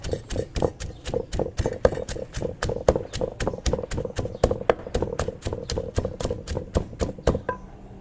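A pestle pounds fried fish with chili in a mortar to make a Thai fish dip, giving steady, even thuds about three per second, close and clear with no talking.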